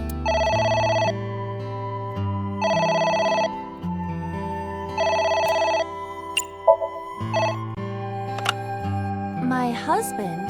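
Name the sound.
telephone ringing in video game AI: The Somnium Files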